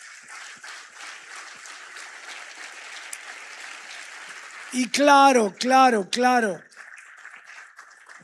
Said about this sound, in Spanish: Vamos a aplaudirte otra vez.